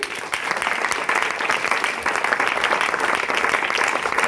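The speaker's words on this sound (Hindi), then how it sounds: "तो सर के लिए भी एक जोरदार ताली।" In a secondary school assembly, students and staff give a teacher loud, dense applause that holds steady for several seconds.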